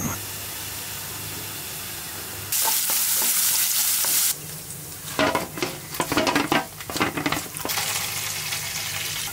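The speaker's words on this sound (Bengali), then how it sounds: "পেঁয়াজ মরিচ ভাজা শেষ" Onions and chilies frying in a pan for a dish with small local shrimp, with a loud steady sizzle, then a burst of hiss and stirring clatter, close up and with no talk.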